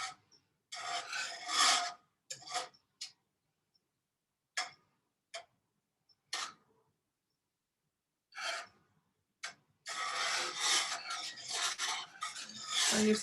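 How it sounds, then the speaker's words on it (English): Butter and cream cheese being whisked for Alfredo sauce, a scraping, rasping whisk against the pan in short bursts and then a long continuous stretch, close and fairly quiet with no talking. "So you just keep whisking it."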